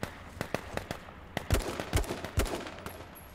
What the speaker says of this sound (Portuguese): agora eu já tô escutando zoada de... tiro.